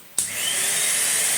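A Numatic vacuum cleaner switches on with a sharp click, and its motor quickly spins up into a loud, steady whooshing drone, close by and alone.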